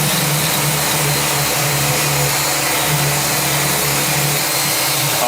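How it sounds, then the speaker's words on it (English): A power sander grinds against acoustic guitar wood in a garage workshop, a loud, constant motor whine with a broad, rough abrasive hiss that holds steady without pause, close up and with no talking. "Hit that with the sander."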